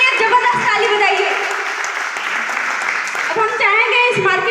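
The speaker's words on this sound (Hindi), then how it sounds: "मेहमान के लिए जबरदस्त ताली बजाइए।" Applause at an RCM business plan meeting welcoming new guests, steady crowd clapping under loud music and voices that swell again toward the end.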